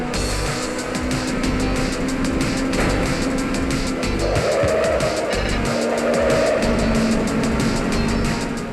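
Race cars roar steadily in Ridge Racer 3D on the Nintendo 3DS, a loud sustained engine whine with shifting pitch and tire noise, close and continuous with no talking.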